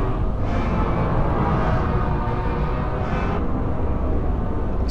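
Dense granular texture built in Max/MSP with mc.groove~, a steady loud wash of overlapping grains across the whole range, with brief brighter swells near the start and around the three-second mark.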